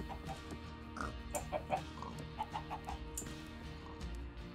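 Chickens clucking in the Minecraft video game, several short repeated game-style clucks over a steady low background hum, fairly quiet and with no talk.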